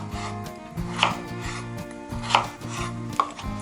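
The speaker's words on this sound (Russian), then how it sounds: "Далее берем картофель и нарезаем небольшим кубиком." Knife chopping potatoes into small cubes on a board for a chicken-and-potato pie, with repeated soft thuds and rubbing scrapes in an irregular rhythm, close and moderate in level, under a steady low background hum.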